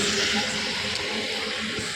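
Water gushes from the pipe of a motor-driven pump, a continuous, fairly loud rushing hiss that holds steady for the whole moment with no talk.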